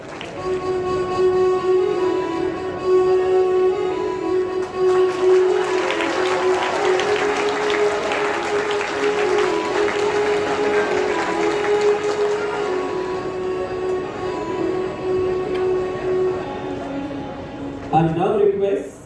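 An audience at a farewell ceremony claps for Father Jackson wearing a safa, dense applause building in the middle over a sustained musical tone, with voices and a brief louder burst near the end.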